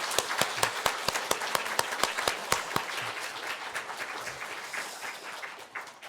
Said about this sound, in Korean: 우리 뜨겁게 박수하겠습니다